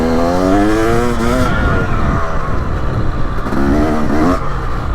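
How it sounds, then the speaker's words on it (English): A 2023 Husqvarna TX300 dirt bike engine revs loudly and close on a slippery, frosty woodland trail, its pitch rising and falling in quick throttle bursts. "It's just a playful engine."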